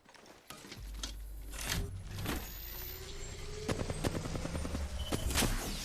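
Apex Legends gunfire: a series of sharp shots and mechanical clacks over a low rumbling bed, growing denser and louder toward the end.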